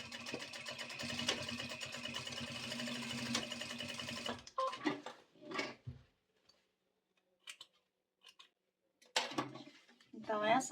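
A sewing machine stitching in reverse on a necessaire, a steady close mechanical whir for about four seconds, followed by quieter handling noises and someone speaking.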